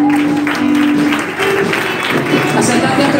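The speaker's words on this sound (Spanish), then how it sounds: "Denle aplauso al Señor." A church congregation applauds during a Spanish-language evangelical service, with a loose, moderately loud wash of clapping under a sustained voice or musical tone that runs throughout.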